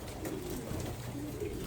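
Pigeons kept in a loft for breeding coo softly and low, a steady murmur of calls from the flock at close range with no one talking.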